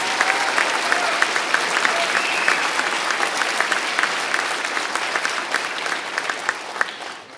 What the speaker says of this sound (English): One more round of applause for James City County's newest firefighters.